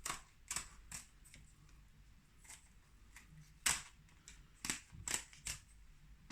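A knife chops through a flat fish skeleton on a cutting board for stock, giving a run of sharp, faint, irregular taps and cracks close by, with no talking.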